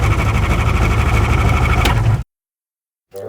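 A light aircraft engine drones loudly at full throttle during takeoff, a steady close buzzing roar that cuts off abruptly after about two seconds, leaving silence before sound returns.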